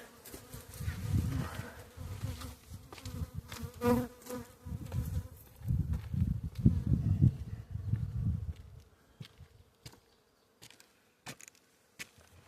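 Honey bees swarm and buzz loudly around a busy, crowded hive that still has its winter insulation on, a dense, wavering drone rising and falling in several surges before thinning near the end, with some handling noise nearby.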